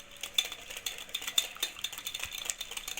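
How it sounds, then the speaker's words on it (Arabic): Cake ingredients being stirred in a bowl to dissolve the sugar, giving faint, quick, rhythmic clinks and scrapes of a utensil against the bowl, close up and steady. "نخلط هاد المكونات حتى يذوب لينا داك السكر"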